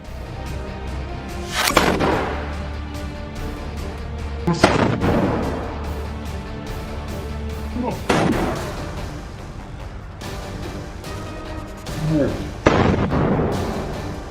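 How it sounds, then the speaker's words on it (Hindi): Several heavy gunshots from a sniper rifle in Gaza combat, each a loud sharp crack with a decaying tail, spaced a few seconds apart over a low rumbling background. "हमास का एक लड़ाका उनके ऊपर दूर से स्नाइपर राइफल से हमला कर देता है"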